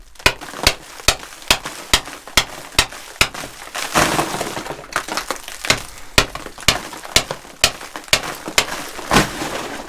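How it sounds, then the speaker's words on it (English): Hand chisel striking gold ore in a mine, a steady series of sharp, close metallic cracks and chips about every half second, with a rougher crumbling burst of breaking rock midway. "I'm gonna have to bust out the hand chisel for this area."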